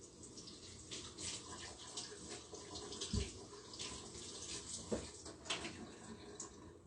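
Chicken is rinsed under a running kitchen tap, a steady, moderately quiet stream of water with light splashing and a few soft knocks from handling, and no voices.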